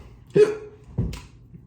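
Two sharp hiccups sound close and loud, about half a second apart, each a short abrupt gulp against a quiet background.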